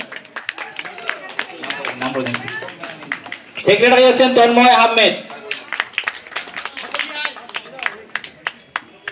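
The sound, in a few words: audience clapping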